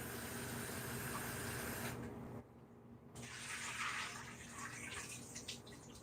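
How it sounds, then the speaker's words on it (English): Jackfruit is rinsed under a running tap, quiet hissing water splashing steadily, briefly dropping away before resuming with a brighter spray. "Rinse off my jackfruit now."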